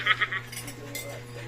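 Glass and spoon clink in a few quick, bright taps at the start, close by in a quiet upstairs room, followed by low hum and faint movement.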